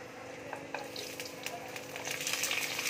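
Potatoes sizzle steadily in hot mustard oil in a pan, a close continuous crackle with faint stirring and no voices.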